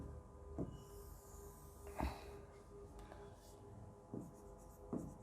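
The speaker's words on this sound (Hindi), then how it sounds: "तो मैं एक बार एक टेबल और बना देती हूँ उसी को लिखकर" Chalk or marker writing on a classroom board while a teacher draws up a table of elements and atomic masses, faint scratchy strokes under a steady room hum with a few louder taps.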